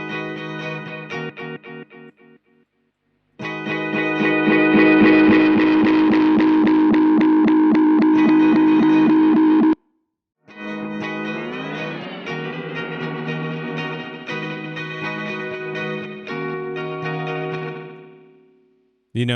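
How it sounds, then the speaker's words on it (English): Distorted, heavily processed instrument tones through a tape delay emulation plug-in, with repeating echoes trailing off, in long bursts separated by brief silences, one passage sweeping upward in pitch. "this is emulating an actual tape delay"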